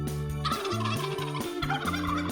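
Rapid, warbling turkey gobbles sound loudly over a busy musical background, repeated in short bursts with no talking.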